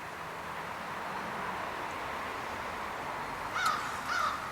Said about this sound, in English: I'm not going to apologize for the traffic that's in the background